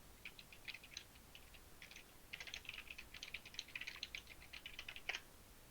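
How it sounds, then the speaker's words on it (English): Aggressive typing on a computer keyboard, quick irregular bursts of light clicking keystrokes at moderate distance, fairly quiet and without talk. "aggressive typing."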